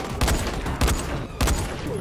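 Three separate bursts of gunfire from enemies at a construction site in the video game Dying Light, evenly spaced about half a second apart, sharp and close over a steady background.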